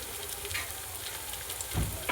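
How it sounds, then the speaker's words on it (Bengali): Raw banana koftas frying in hot oil, with a steady low sizzle and a brief louder burst of bubbling near the end, no voices. "কোপ্তাগুলোকে আমি লাল লাল করে ভেজে নেব।"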